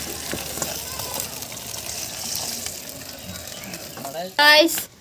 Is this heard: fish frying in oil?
yes